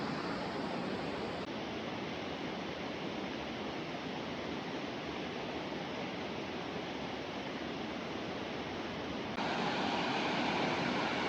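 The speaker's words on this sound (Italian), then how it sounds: "Oggi Manuel mi ha portato a vedere la cascata del Pissandolo." The Pissandolo waterfall in Comelico Superiore, seen from a paved road, roars as a steady, dense rush of falling water that holds constant throughout, with no voices.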